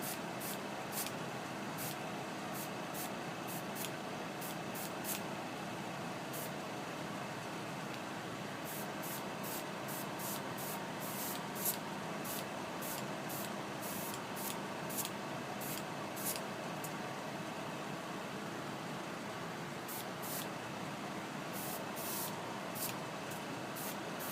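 Light misting spray coats applied to a workpiece for a rusting paint effect, heard as short hissing bursts in irregular clusters over a steady background hiss, fairly close and alone.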